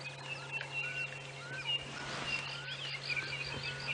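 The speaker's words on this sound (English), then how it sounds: "I don't know if you can hear all the birds there, all chatting away in the distance." Birds chirp and call far off at dawn on a safari drive, faint scattered tweets over a quiet background with a steady low hum.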